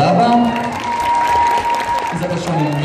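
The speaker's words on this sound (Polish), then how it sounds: "Gorące brawa." Audience applause after a jazz dance solo at a dance competition fills the room as a loud, steady wash of clapping with scattered cheers, while an announcer talks over it.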